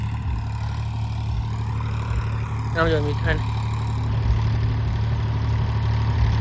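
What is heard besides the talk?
tractor engine running with Shaktiman rotavator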